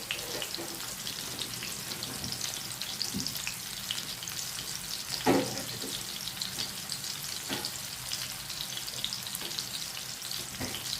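Konem fish pieces fry in hot oil in a pan, a continuous crackling sizzle with scattered spitting pops and one louder splatter, steady and close with no one speaking.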